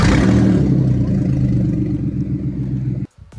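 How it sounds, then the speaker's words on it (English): An Audi S4 B8 V6 engine rumbles loudly with a raw, rattly, unmuffled note from a detached exhaust for about three seconds, then cuts off abruptly. "the exhaust should not make that sound, and that is because the exhaust isn't attached"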